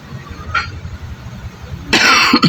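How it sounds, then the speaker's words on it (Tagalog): Quiet room hum with a faint knock, then a sudden loud, harsh cough bursts out close to the microphone near the end. "Inubo kasi ako."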